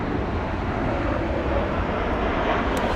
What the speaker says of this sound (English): So that's El Al flight 357 inbound from Tel Aviv on a 737-800 MAX.